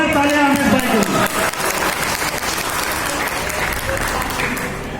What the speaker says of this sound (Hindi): जोरदार तालियां अमीश भाई के लिए।